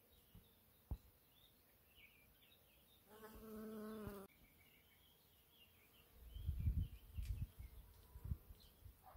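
Honeybees buzz around flowering fruit trees, a soft hovering drone that swells as a bee passes close, with faint bird chirps in a quiet outdoor garden.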